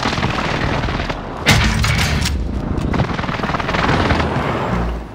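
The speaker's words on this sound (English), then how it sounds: "Enemy precision airstrike, stay alert." Loud video game combat with a dense rumble of airstrike explosions and rapid gunfire, a sharp blast standing out early, sustained heavy booms and crackling shots throughout with no speech.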